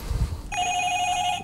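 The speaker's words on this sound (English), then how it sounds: "it's a doorbell, I think." After a brief low thump, a bright electric bell rings steadily for about a second, a sustained metallic tone, fairly near.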